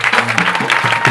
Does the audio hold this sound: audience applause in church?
yes